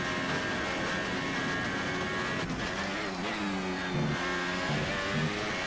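Renault Formula One car from the F1 2019 racing game accelerating on a first lap, its high engine note climbing through gears with rising and falling harmonics, loud and continuous with faint tire noise.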